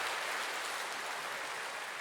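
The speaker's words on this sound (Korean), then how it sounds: "다시 한번 우리 하나님께 감사와 영광의 박수를 올려드리겠습니다" A church congregation applauds together, a dense, even wash of clapping that stays loud and steady from start to end with no voices over it.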